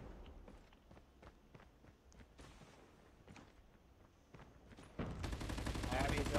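Automatic gunfire in the mobile shooter game Call of Duty Mobile, quiet bursts of rapid shots mixed with running footsteps, then a louder dense stretch of firing near the end, with players talking over it.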